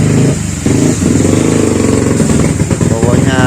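A carbureted motorcycle engine warms up to operating temperature, running loud and steady close by with a slightly uneven throb and brief dips in revs, while someone talks over it.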